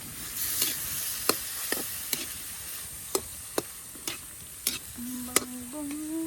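Pork adobo sizzles in a pan as kangkong stalks and leaves go in, with sharp clanks of a spoon stirring against the pan at irregular intervals over a steady close frying hiss.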